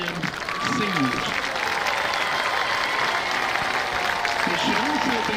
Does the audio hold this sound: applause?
yes